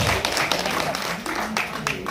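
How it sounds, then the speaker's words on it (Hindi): Audience applause at a Delhi cultural gathering, a dense crowd of hand claps sounding fairly close and steady throughout. "आप सभी के लिए एक बार जोरदार तालियां।"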